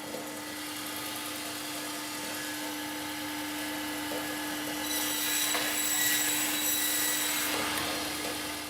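A saw cuts through a beef back bone in a butcher's shop, a continuous grinding buzz with a steady hum beneath it that grows rougher and louder midway.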